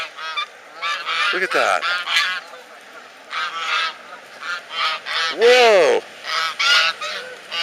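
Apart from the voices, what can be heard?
ducks honking by a river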